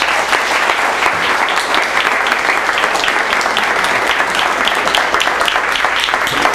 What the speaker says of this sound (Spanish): ¿qué les parece que nos damos un fuerte aplauso y comenzamos?